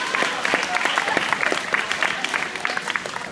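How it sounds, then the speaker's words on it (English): Graduating students applauding at a valedictorian speech, a lively burst of many hands clapping with crowd murmur, fairly loud and continuous throughout. "Give yourselves a round of applause"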